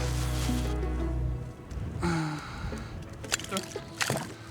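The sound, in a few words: water sloshing while unhooking a pike in the water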